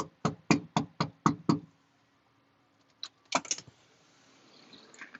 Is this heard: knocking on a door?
yes